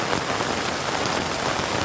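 Steady, dense rain pours down, a continuous hiss of drops hitting a surface with no other sounds.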